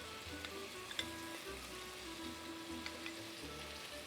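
Butter sizzling in a pan with seared meat for Artashat borani, a soft, steady frying hiss with faint scattered crackles, quiet and continuous, no voices.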